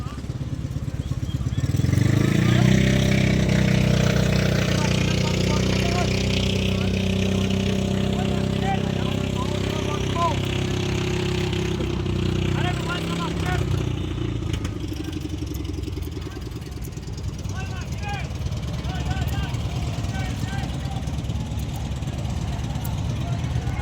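A boat engine runs steadily at a seafood fish port, a loud continuous rumble that holds for the whole stretch and eases slightly midway, with people talking over it.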